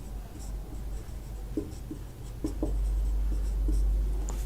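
Chalk or pen writing out a physics definition by hand during a Hindi lesson on electric flux, heard as a run of short, faint scratchy strokes and taps over a low steady room hum, with no talking.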